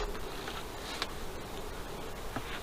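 Honeybees buzzing around farm hives in December after smoke is applied, a continuous close droning hum with occasional louder passes, no talking.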